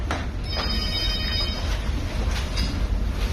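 Telephone ringing in a room, a high trilling ring repeated in a few short bursts over low background rumble.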